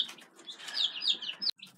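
A chick chirping in a rapid run of high, thin peeps, close and fairly clear, over about a second and a half before a short break.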